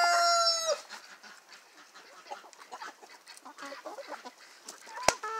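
A Naked Neck chicken on a farm gives a brief crow-like call at the start, then soft scattered clucks and rustling follow at low level, ending with one sharp knock.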